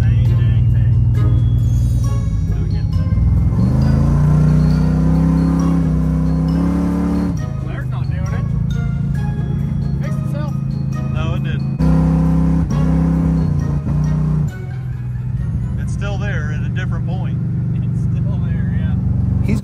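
A 500hp 400 small block Chevy in a Trans Am revs hard and repeatedly bounces off an early-engaging rev limiter, loud and close, in several surging bursts separated by brief drops. Someone talks over parts of it.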